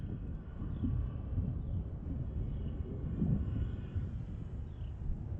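Steady broadband whir of homemade rectangular RC aircraft motors flying with differential thrust, droning continuously at a moderate distance with faint wind noise and no talking.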